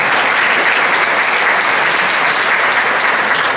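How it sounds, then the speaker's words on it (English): Audience applause at an evening awards gala, a dense, steady wash of clapping filling the room for the full few seconds, with no voice over it. "Let's give Don Howard a big round of applause."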